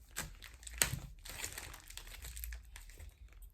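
Heavily packaged mail being unwrapped at home, with close crinkling and crumpling of packing material in uneven bursts and a sharp rustle near the start, no talking.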